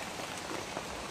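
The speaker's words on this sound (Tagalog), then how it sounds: "kahit umuulan," Rain falling outdoors during a rescue search, a soft, steady hiss of drops on surfaces, faint and even throughout, no speech.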